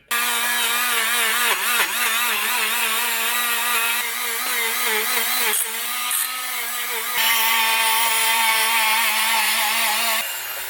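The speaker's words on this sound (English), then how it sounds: "So I wire wheeled the headers." Loud, sustained abrasive whine of a wire wheel scrubbing ZX14 motorcycle exhaust headers, steady throughout with small shifts in pitch and pressure as the part moves against the wheel.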